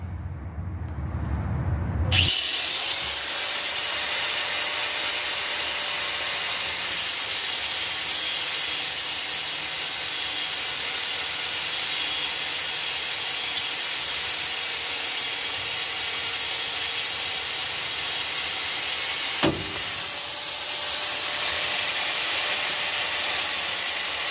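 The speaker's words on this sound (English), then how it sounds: "So let's grab a tool and start cutting." A tool cuts through the U-bolts on a 1999-2006 Chevy Silverado/Sierra pickup during a lift kit install, making a loud, steady hissing, grinding roar that runs about seventeen seconds. It cuts off abruptly, followed by a brief sharp sound near the end.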